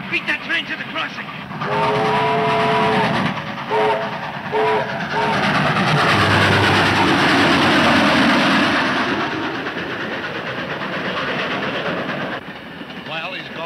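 A train rolls past a road crossing, its whistle sounding in a few blasts over a rising roar of wheels and rumbling cars that fades away, with voices speaking over it.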